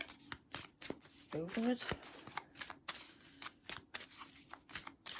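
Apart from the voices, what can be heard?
shuffling tarot cards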